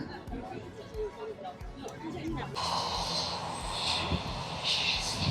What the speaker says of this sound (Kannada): ನೋಡಿ ಒಂದು ಚಿಕ್ಕ ಏರೋಪ್ಲೇನ್ ಇವಾಗ ಟೇಕ್ ಆಫ್ ಆಗ್ತವೆ